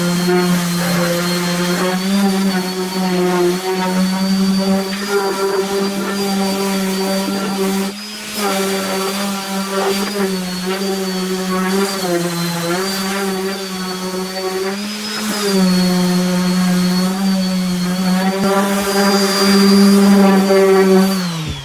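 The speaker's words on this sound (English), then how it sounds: "So this is just a really quick sanding." A Makita sander running continuously on a wood surface, a steady high-pitched motor whine with a strong tonal hum that dips and rises slightly as pressure shifts, close and loud with no talk.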